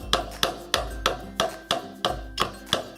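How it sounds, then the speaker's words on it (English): A hammer strikes while an IKEA drawer is being assembled: about eight sharp, evenly spaced taps, close and fairly quiet, with no talking. "Hammering is a big part of the making things"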